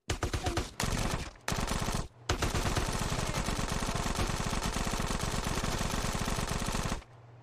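Rapid automatic gunfire rattles almost continuously from a shootout in the video game GTA San Andreas Definitive Edition, loud and close, with a couple of brief pauses before it cuts off.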